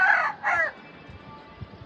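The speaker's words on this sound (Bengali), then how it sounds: "মুরগিগুলো কি সুন্দর ডাকতেছে, শুনতেও ভালো লাগতেছে।" Chickens kept in a cage on a rooftop garden give two short, bright calls close together near the start, then fall to a faint low background with soft rustling.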